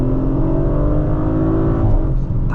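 Audi RS5 Competition Plus engine pulls hard under acceleration, a loud, steady, close-up engine drone with rising harmonic tones heard from inside the car, no talking.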